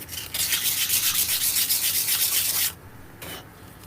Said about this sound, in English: check the integrity of it, maybe give it the little sandpaper